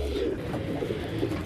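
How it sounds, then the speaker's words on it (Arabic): French meat pigeons in a loft, a steady low cooing and murmuring from several birds close by, continuous throughout with no talking. "في حمام خرج واقف برضه اهو"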